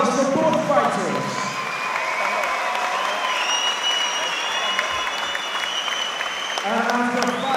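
A large crowd at a Muay Thai fight applauds both fighters, steady loud clapping with shouts and cheers mixed in, lasting throughout, with a few voices rising near the start and end.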